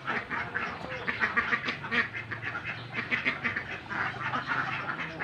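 A flock of laying ducks on a duck farm quacks continuously, with many overlapping calls at close and middle distance and a steady murmur of the flock underneath.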